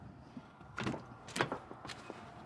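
Rear door of a 2026 Toyota Land Cruiser being handled and shut outdoors in the cold, giving a few soft, muffled thunks and latch clicks at moderate distance, fairly quiet overall.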